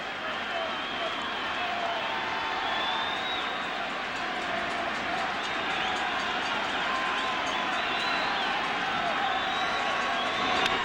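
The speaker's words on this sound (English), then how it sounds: "The crowd is alive here at the stadium." A baseball crowd of over 53,000 at Yankee Stadium in 1998, a Yankees home game against Atlanta in the bottom of the 7th: a dense, steady roar of cheering fills the whole stretch, with a broadcaster talking over it.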